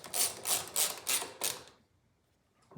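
A ratchet tool clicks in five quick rhythmic bursts while tightening screws on a Briggs and Stratton lawnmower, then stops, leaving near silence.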